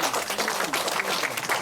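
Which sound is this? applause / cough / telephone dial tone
applause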